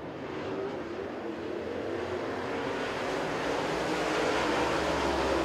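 Super late model race cars roar around Crossville Speedway, a dense, continuous engine drone that swells slightly as the pack passes, with no voices over it.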